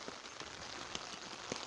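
Rain falls outdoors on a wet day at a fishing lake near Dorchester: a faint, steady patter with scattered sharper drops, and no voices.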